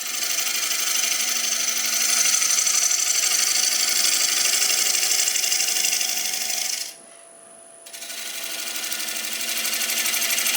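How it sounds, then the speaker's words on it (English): Wood lathe spinning a ring blank while a spindle roughing gouge skims it, giving a continuous close, rasping, whirring hiss that cuts out for about a second as the tool lifts, then resumes. "We'll stop the lathe in a minute, we'll just check."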